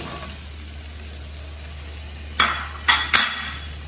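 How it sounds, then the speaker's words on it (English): Chopped tomatoes saute in a hot pan with a soft, steady sizzle, then three sharp, louder bursts of crackle near the end as they are stirred or tossed, close and without speech. "chopped tomatoes, okay, and saute"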